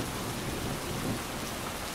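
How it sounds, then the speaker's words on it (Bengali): A rain and storm sound effect for a Bengali horror story, a dense, steady hiss of heavy rain falling on surfaces with a faint low rumble beneath, heard alone. "রাত হলো, বৃষ্টি এখনো ঝরছে"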